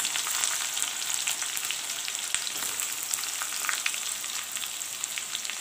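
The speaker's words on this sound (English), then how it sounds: "Let the onions fry." Very finely chopped onions with cumin seeds and bay leaves fry in hot oil in a Bengali-style potato curry, a steady close sizzle with faint crackles throughout and no talking.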